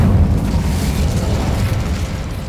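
An Incendio fire spell is cast in Hogwarts Legacy, giving a loud, close, booming burst of fiery roar with heavy low rumble that sustains and slowly fades across the moment.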